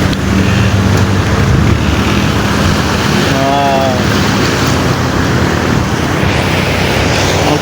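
Floodwater rushes loudly through the streets of DHA Defence, Karachi, after heavy rain, a continuous broad roar of flowing water with passing cars churning through it and a voice faintly heard over the wash.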